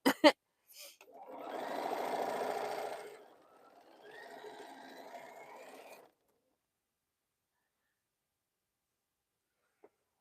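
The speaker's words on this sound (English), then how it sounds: "Just making sure I'm doing this right before I sew all 10" A sewing machine stitches quilt blocks for boho heart and Crown Royal designs, a steady mechanical whir running about two seconds, then a softer second burst of stitching, with brief clicks at the start and near-silence afterward.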